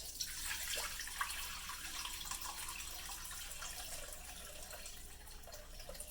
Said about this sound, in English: So I will go ahead and just pour it right in this big bowl here before I start scooping the cheese out.